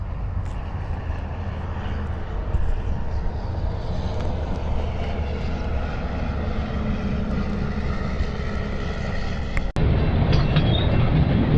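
A continuous heavy rumble of a passing train, steady and loud throughout, with a brief sharp click near the end.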